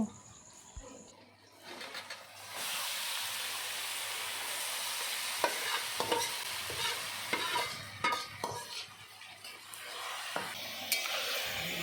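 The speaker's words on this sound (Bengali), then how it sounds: "এরপর ম্যারিনেট করা মাংসটি আধ ঘন্টা ভালো করে কষিয়ে নেব" Marinated chicken and tomatoes fry in spices in a pan and are stirred. A soft start gives way to loud continuous sizzling, with scraping stirs and occasional clatters, and birds cooing faintly nearby.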